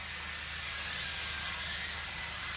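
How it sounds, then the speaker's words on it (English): A can of avocado oil cooking spray lets out one continuous, close, airy hiss of a bit more than two seconds that cuts off sharply at the end. "this is the spray that I use. I get it from Costco. It has no taste, it's avocado oil"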